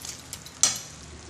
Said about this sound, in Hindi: ये मेरा तड़का बनने के लिए मसाला फ्राई हो रहा है।